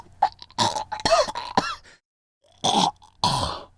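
Several short, rough throat bursts, a cough or throat-clearing in bouts of two to four with a brief silent gap, loud and close, as if hacking up a hairball.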